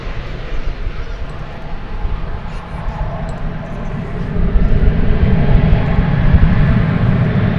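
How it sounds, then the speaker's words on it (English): Boeing 787-8 arriving at DFW Airport from Haneda on Flight 176, a loud, close jet rumble that swells toward the end, with a voice talking over it at times. "in from Haneda Airport is this 787-800. Or 787-8,"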